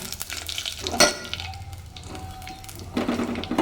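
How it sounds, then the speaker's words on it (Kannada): Fenugreek seeds and green chillies sizzling in hot oil in a pan, stirred with a spoon: steady close frying crackle with scraping stir sounds and a clink near one second, louder again toward the end. "ಇವಾಗ ಮೆಂತೆ ಹಾಕ್ಕೊಳ್ತಾ ಇದ್ದೀನಿ ಮೆಣಸಿನ್ಕಾಯಿ ಇದ್ದೀನಿ ಸ್ವಲ್ಪ ಮಿಕ್ಸ್ ಮಾಡ್ಕೊಳ್ಳೋಣ"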